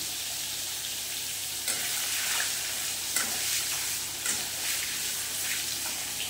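Chopped onion frying in melted butter and oil for a yogurt chicken stew, a steady close hiss of sizzling with a few brief stirring clatters, no voices.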